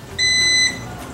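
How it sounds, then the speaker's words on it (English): A Keto Health Care M3 ketone breath meter gives a single clear electronic beep after finishing its warm-up, lasting about half a second, loud and close in a quiet room. "Once warmed up is complete, the device will beep and signify the blow instruction."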